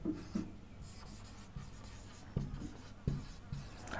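Chalk writes on a board during an English grammar lesson, making short scratchy strokes and light taps in quick bursts, fairly close and without talking.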